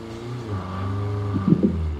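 A car engine in Call of Duty Mobile drones steadily and grows a little louder as it approaches, with a brief burst of clatter near the end.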